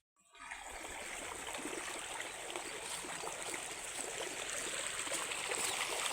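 Water gushes from a broken pipe in a steady, continuous rushing stream that starts abruptly and grows slightly stronger, heard up close with no talk.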